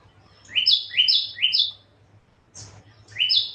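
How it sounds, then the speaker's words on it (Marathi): Small birds chirp outdoors in a quiet rural spot, a close series of bright, rising double notes repeated in quick bursts with short pauses between, over a faint low hum. "छान असे पक्ष्यांचा आवाज गुंगुमतो इथं"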